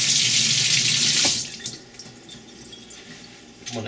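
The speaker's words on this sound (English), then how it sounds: "Rinse my hands off" Tap water runs loudly into a kitchen sink as hands are rinsed while chicken is prepared for chop suey, then cuts off abruptly, leaving faint clinks and handling sounds.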